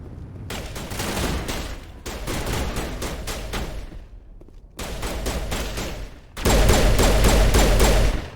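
Sustained pistol gunfire in the Mass Effect 1 Legendary Edition shooter: dense bursts of rapid shots in several volleys separated by short pauses, loud and close, with the final volley the heaviest.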